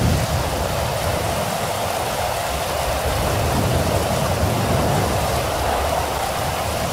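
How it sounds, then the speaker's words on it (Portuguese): Steady rain pours in a continuous, dense hiss at close range in a game setting at a Brazilian army border roadblock, with no voices over it. "É, começou a chover agora."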